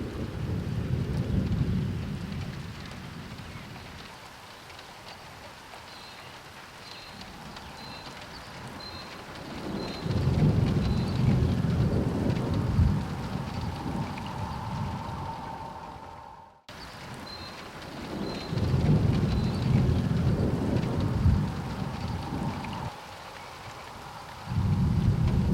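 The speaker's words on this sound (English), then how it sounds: "And thunder without a car." A high-based thunderstorm over Appin, New South Wales, Australia brings deep thunder that rumbles in long rolling waves over a steady patter of rain, with no voices.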